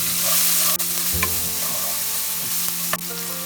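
Asafoetida and grated ginger sizzle in hot oil in a pan, a steady close frying hiss with a few stirring scrapes and no voices.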